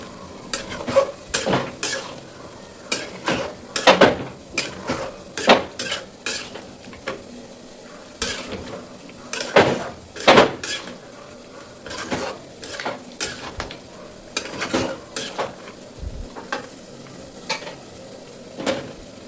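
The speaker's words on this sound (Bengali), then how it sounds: "গরম জল দিয়ে করে আজকের মাংসটা একদম অনেকক্ষণ ধরে কষে নিলাম" Meat being slow-fried (kosha) in a pan for a long time with hot water added, with repeated sharp scraping stirs of a spatula and a low sizzle underneath, close and steady, no talking.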